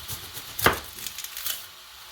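A kitchen knife works through a whole onion on a board, one sharp chop standing out among a few lighter cuts and taps, close and clear with no talking.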